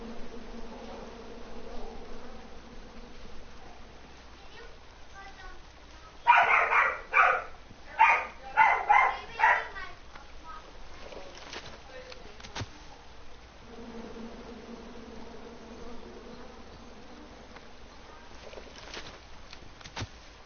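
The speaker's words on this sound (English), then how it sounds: "you chop down the tree full of angry bees?" Angry bees swarm in the King's Quest game after a bee-filled tree is chopped down, a burst of harsh buzzing pulses in the middle of the stretch, rising sharply over a quiet low background before fading.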